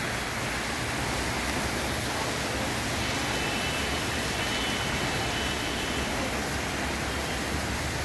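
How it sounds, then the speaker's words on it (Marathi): Heavy monsoon rain pours steadily over a street in Jalna during flooding, a dense, unbroken hiss of water that stays at the same level throughout, with no voices. "बघू शकता कशा प्रकारे पाऊस चालू आहे"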